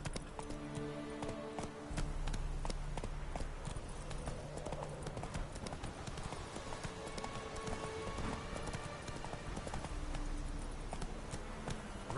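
Galloping hooves of Roach, a horse in The Witcher 3, drum a steady, fast clip-clop rhythm throughout, close and loud over a layer of background game music.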